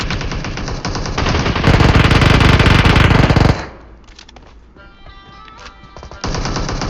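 Automatic weapon fire in the mobile shooter Free Fire, loud rapid bursts of machine-gun shots that swell in the middle, drop to a quieter stretch with faint sounds, then resume at the end.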